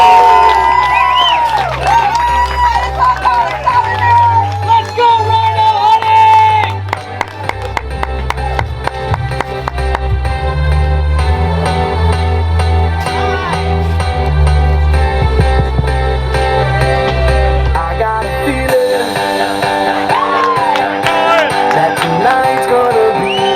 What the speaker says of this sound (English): So please give a round of applause for Don Huffines